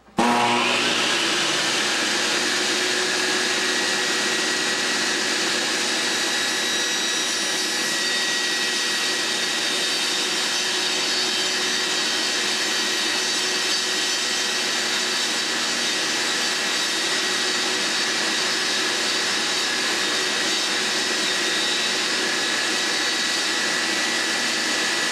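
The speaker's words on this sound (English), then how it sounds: "a saw with a really nice sharp blade, and of course this blade is a brand new carbide blade" A saw fitted with a brand-new carbide blade cuts through metal, giving a loud, steady, high-pitched whine with a constant grinding hiss that holds without a break for the whole stretch, with no voices.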